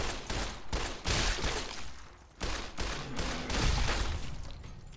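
Gunfire in Fallout New Vegas during a fight with Bighorners, a rapid volley of loud, close shots in uneven bursts with brief gaps, continuing for several seconds without talk.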